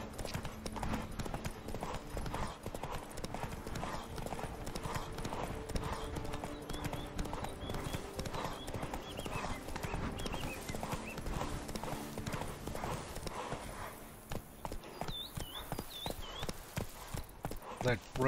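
Hooves of Roach, the horse in The Witcher 3: Blood and Wine, clip-clop steadily at a walk or trot throughout, close and clear, under ambient game sound, with a brief birdlike chirping near the end.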